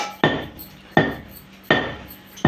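Black sesame seeds and garlic pounded by hand, four sharp thuds in a steady rhythm about three-quarters of a second apart, each with a short ringing decay, close and fairly loud with no talking.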